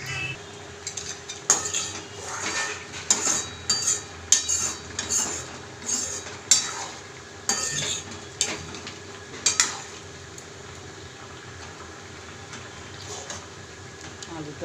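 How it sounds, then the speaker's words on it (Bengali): Aloo posto being stirred in a pot, with repeated metal scrapes and clinks of a spoon against the pot over a soft simmering hiss, busiest early on and then trailing off. "ভালো করে এটাকে নেড়ে নেব।"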